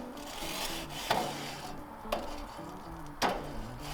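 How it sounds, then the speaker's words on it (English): Metal scraper rasping across hot grill grates before cooking burgers, a steady rubbing scrape with three sharper clanks spaced about a second apart, close and moderately loud with no talking. "just give each grate a good scrape"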